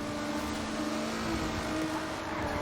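A Mitsubishi Eclipse race car accelerating in Forza Horizon, its engine a loud, steady, droning whine held close throughout, with no talking.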